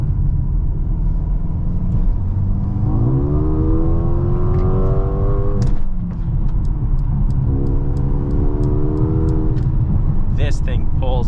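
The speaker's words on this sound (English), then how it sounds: "We're gonna go ahead and take this AMG GLA 35 on the highway" 2023 Mercedes-AMG GLA 35 in Sport Plus mode accelerating hard on a highway, engine note climbing steadily through two rising pulls with a quick shift break between them, loud and close over a constant rumble of road noise.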